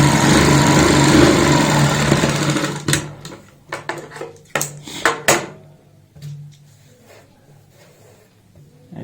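An electric sewing machine stitching a blouse lining, running in a continuous whir at first, then breaking into short start-stop bursts with clicks and clatter before going quiet.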